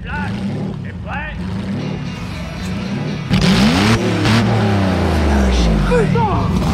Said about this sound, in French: Donc là on est sur un V12 qui provient donc du Jaguar XJS